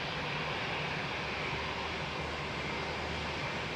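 Qatar Airways Boeing 777 departing London Heathrow, a steady broadband jet roar held at an even level throughout, with no voices.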